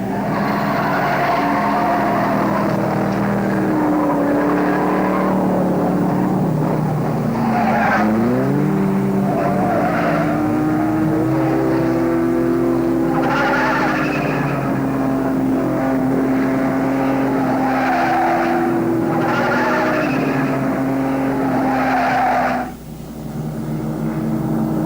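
Race cars in a 1950s road race to Mexico roar past one after another, engine notes sliding up and down with gear changes and passes, loud and continuous with brief tire squeals.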